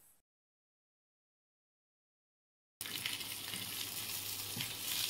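Potatoes frying in a pan in a Bengali vegetarian drumstick curry kitchen; after near silence, a loud, close, continuous sizzle with stirring starts abruptly and holds steady.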